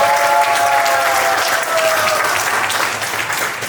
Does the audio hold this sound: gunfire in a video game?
no